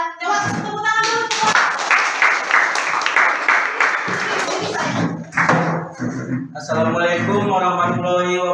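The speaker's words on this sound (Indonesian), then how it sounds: "Coba tepuk tangan dulu" A classroom of students claps for group 3, a few seconds of dense, close hand clapping with thuds, followed by people speaking.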